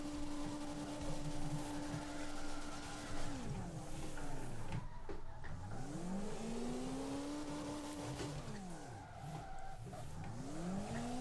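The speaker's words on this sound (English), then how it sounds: "You can see I'm literally full throttling it because this car is too easy to drift with." Game car in CarX Drift Racing Online drifting at full throttle, engine droning steadily with pitch swooping down and back up in repeated arcs as revs rise and fall, tire squeal mixed in throughout, no talking.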